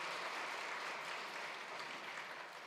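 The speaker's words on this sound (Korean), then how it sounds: "한 번 더 박수 쳐주세요" A church congregation applauds during a New Year's Sunday worship service, a soft, distant, even wash of clapping that holds steady and fades slightly toward the end.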